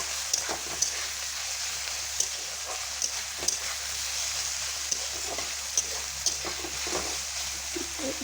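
Shrimp frying in a pan, a continuous even sizzle with scattered sharp pops and spatters close by, no voices.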